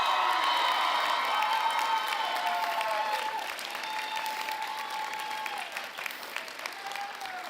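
A large audience at a law school commencement ceremony applauds steadily, a dense wash of clapping with a few faint whoops and cheers, slowly easing in strength toward the end.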